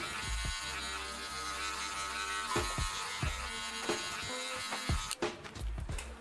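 Hair clippers with a half guard buff out lines on a bald fade with combover, their lever opening and closing; a close, steady electric buzz runs throughout with a few short knocks and shifts, no one speaking.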